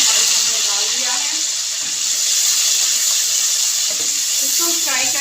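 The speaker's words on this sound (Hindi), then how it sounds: "2 टमाटर ले लिए हैं मैंने, इनको मैंने ऑयल के अंदर डाल दिया है।" Two tomatoes frying in hot oil with roasted spices for a potato and onion curry, giving a steady, loud hiss and sizzle throughout with no break.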